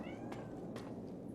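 Cat meowing in Fallout: New Vegas, two short meows over a dense, steady background of game ambience, fairly quiet and with no talking.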